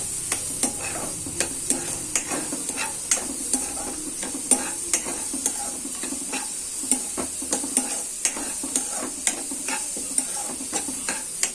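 Chopped onions sizzle steadily in hot tempering oil in a pan, with a spoon scraping and stirring at a regular pace, producing repeated sharp clicks over a constant hiss, close and fairly loud.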